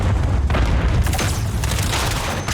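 A stun grenade blasts in a Call of Duty League 2020 esports match, a loud booming burst followed by dense, continuous gunfire and explosive clatter across the whole moment.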